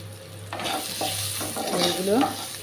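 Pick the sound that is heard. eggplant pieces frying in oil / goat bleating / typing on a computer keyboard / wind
eggplant pieces frying in oil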